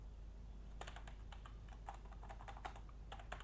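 Keys on a computer keyboard clack in quick irregular bursts, close but fairly quiet over a steady low hum, while a word is typed during a game-engine programming lesson.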